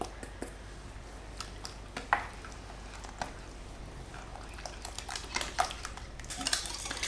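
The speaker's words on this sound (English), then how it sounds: "While whisking, add the onions and then the spinach." A spinach and feta pie filling is whisked in a bowl, giving quiet, irregular clinks and scrapes of the whisk against the bowl with soft wet stirring between them.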